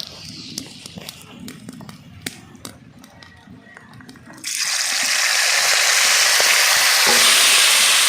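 Chicken pieces for a spicy roast hit a hot pan already tempered with garam masala, starting with light clinks and taps, then bursting into a loud, steady sizzle that continues to the end.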